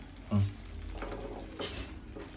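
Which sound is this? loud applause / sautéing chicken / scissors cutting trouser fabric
sautéing chicken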